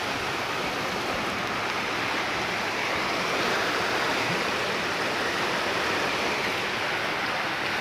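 Floodwater rushes behind a house in a village neighbourhood, a loud, continuous broadband roar of flowing water with no break and no voices.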